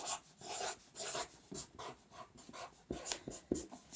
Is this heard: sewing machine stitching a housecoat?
no